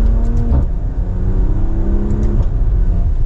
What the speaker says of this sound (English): A few pops in that exhaust.